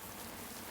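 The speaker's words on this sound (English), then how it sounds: "Is that enough rain, Matthew?" Steady rain patters down across a surface, a dense, even hiss with a soft low rumble running the whole time, no voices.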